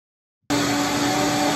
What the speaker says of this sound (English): And now we got a blender